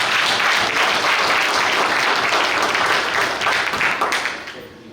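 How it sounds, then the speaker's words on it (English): A crowd at a Kerala Center award night in New York gives a sustained round of applause, thick and even clapping that thins out and fades near the end. "Please give him a round of applause."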